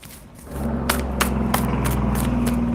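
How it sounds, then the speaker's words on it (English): A big truck downshifts as it drives close past a house, its deep engine drone settling into a steady low growl with scattered clatter on top. It sounds loud, close and continuous, with no talk. "It's a big ass truck, man. Just downshifted, going right by my place."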